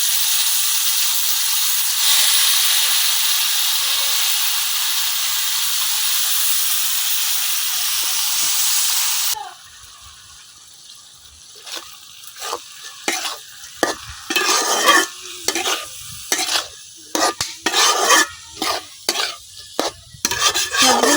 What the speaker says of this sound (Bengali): এখন মশলার সাথে আমি খুব ভালোভাবে মিশিয়ে নিচ্ছি।